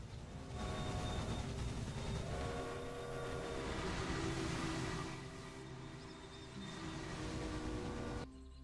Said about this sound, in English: This is our grain train? It is our grain train.